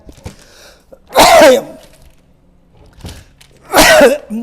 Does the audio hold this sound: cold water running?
no